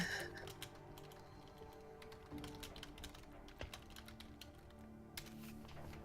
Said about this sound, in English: I know you all heard that typing.